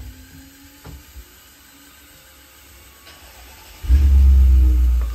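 A customized Technics RS-1500 reel-to-reel tape deck goes into rewind, with a mechanical click followed by a sudden loud, deep whirring rumble of the reels spinning up and running steadily.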